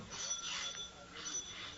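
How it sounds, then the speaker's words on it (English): A front doorbell rings twice in an old radio drama, with two bright, thin, fairly faint chimes about a second apart. "the front doorbell rang"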